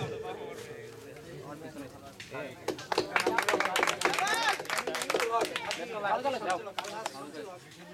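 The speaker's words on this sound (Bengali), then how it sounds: "জোরে একটা হাততালি, জোরে জোরে।" A crowd claps at the prize-giving of the Dhaka Outdoors X-Trail Challenge 2017 cycling event, with applause swelling after a few seconds and running steadily beneath an announcer's voice over a PA.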